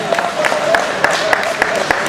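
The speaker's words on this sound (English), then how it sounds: "Round of applause for Tim Hortons" An audience at a Q&A session claps for Tim Hortons, a fairly loud patter of applause with distinct individual claps standing out sharply above the crowd's steady clapping.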